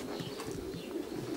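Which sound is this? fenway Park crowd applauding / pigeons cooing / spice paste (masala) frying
pigeons cooing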